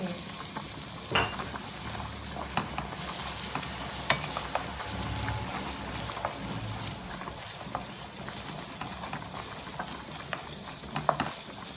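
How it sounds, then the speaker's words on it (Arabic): Tomato paste sizzles in a pan for spaghetti with meatballs, a steady close-up frying hiss dotted with small pops and crackles. "كتقلى هنا كتعطي حتى اللون زوين والمذاق."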